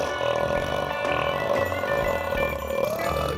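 Burps voiced over music in a novelty holiday song, with steady sung tones and a continuous backing track at a moderate level, and no separate talking.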